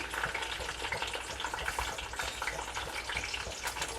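Steady, dense crackling sizzle of spices and green chillies frying in hot oil for tempering a coriander-tomato chutney, continuous and close, with small pops scattered throughout and no voices.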